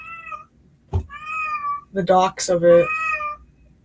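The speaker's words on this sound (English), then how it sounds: "That is my cat." A pet cat meows several times close by, drawn-out tonal cries with a brief sharp sound between them, while a person speaks briefly over part of it.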